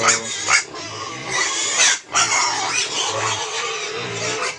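Young piglets on a farm squeal and grunt loudly at feeding time, overlapping shrill cries with brief gaps, close up and without talk.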